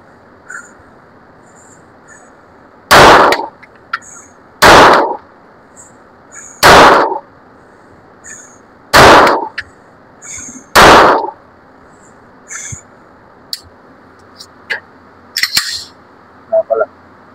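An ARMSCOR STK100 pistol fires reloaded ammunition at a range: five sharp, loud shots spaced roughly two seconds apart, followed by fainter clicks and handling noises.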